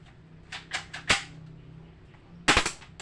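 Sharp gunshots crack out in a quick irregular series, a few single pops followed by a tight burst of rapid shots, close and loud.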